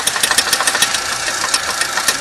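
A car engine idles nearby with a steady fast ticking, its rhythm rising and falling slightly as the idle hunts unevenly.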